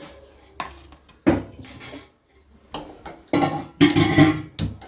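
Cumin seeds are dry-roasted over a low flame in a pan for sambar powder, with a spoon scraping and clattering against the metal in irregular bursts separated by short quiet gaps, close up.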